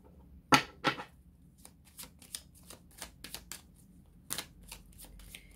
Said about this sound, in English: as I shuffle the cards